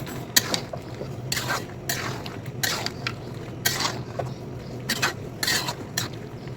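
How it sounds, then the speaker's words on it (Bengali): Meat being stirred in a cooking pot with whole garlic cloves and spices, giving repeated scraping and wet stirring strokes, about eight short bursts over a steady low kitchen hum. "এই প্রথম নাড়া হচ্ছে মাংস।"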